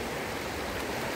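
A forest river stream in Nepal rushes steadily, a continuous broadband wash of flowing water close by, with no voices.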